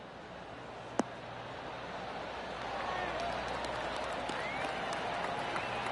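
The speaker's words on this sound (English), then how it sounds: "That deserves a golf clap." Gallery crowd applause at a golf course in the video game PGA Tour 2K23, a steady wash of distant clapping that swells after a brief sharp click and continues under light commentary.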